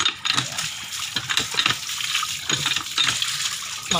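Water from a hand pump gushes hard and steadily, loud and close, with slight surges as it is pumped.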